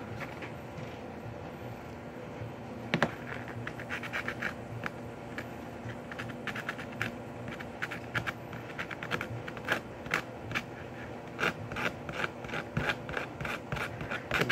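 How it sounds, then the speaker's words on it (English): Surfaces of a soft zinc part being hand-roughened with 60 grit sandpaper: quiet, steady scratchy rubbing with quick, irregular gritty strokes close by. "A little sandpaper. This is 60 grit."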